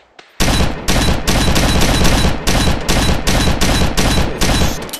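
Shotgun blasts from the Gun Club VR video game, about a dozen loud, booming shots fired in a steady, evenly spaced rhythm after a brief quiet start, each with a short decaying tail.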